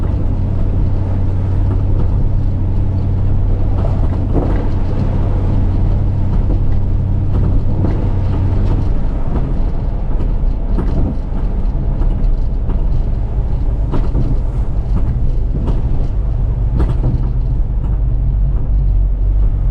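A 1970 Chrysler car idles and runs steadily with its rebuilt A-904 automatic transmission, a loud continuous engine drone with a ticking exhaust leak from the manifolds, close by with no talking.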